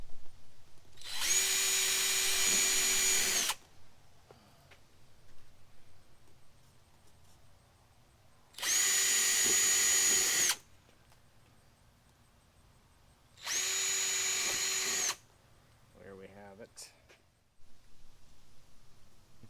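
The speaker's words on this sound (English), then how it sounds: "drill 4 screws in. Stainless steel screws just to hold this down" A power drill drives stainless steel screws into a solar wax-melting heater, with three loud sustained whirring bursts of about two seconds each and quiet pauses in between.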